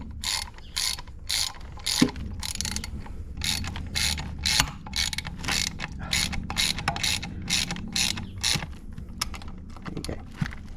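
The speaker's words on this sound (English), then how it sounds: "So now we just need to do the retaining screw up to keep tension on it and the plate." A retaining screw being tightened on an Audi Q5 brake caliper, rapid rhythmic ratcheting clicks in regular bursts, close and continuous with no talk.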